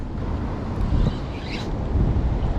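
Strong wind roars and buffets the microphone in a constant low rumble, with faint water sounds underneath, on the Dnipro river.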